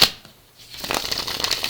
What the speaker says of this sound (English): the Santa Muerte Tarot, which I am currently shuffling one last time.